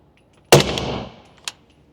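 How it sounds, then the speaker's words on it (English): Two gunshots from a 300 Blackout rifle during target practice: a loud, close crack with a short decaying tail, then a second, fainter report about a second later, with no talking. "That was 2 shots."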